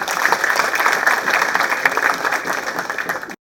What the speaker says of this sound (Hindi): इनका तालियों से स्वागत कर लीजिएगा।